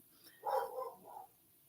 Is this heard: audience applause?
no